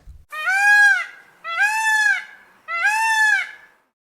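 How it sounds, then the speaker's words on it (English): A toucan calls in three loud, separate croaking honks, each about a second long and spaced evenly apart, with no other sounds around them. "Do you hear the sound the toucan is making?"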